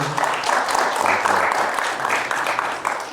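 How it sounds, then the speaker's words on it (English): A conference audience gives a steady round of applause for a speaker at an Islamic event, dense clapping from many hands, loud and close, sustained throughout with no talk over it. "Again, round of applause for Ustadh Hassan, everybody"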